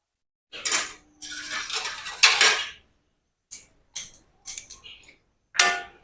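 A pot of boiled masoor lentils lifted off a gas stove, with several bursts of metal pot and utensil clatter, some sustained scraping and clanks, then short separate knocks after a pause.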